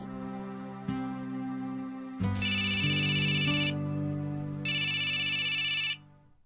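A telephone rings with a repeating electronic ringtone, bursts of bright tones over a steady musical background, loud and close with no talking.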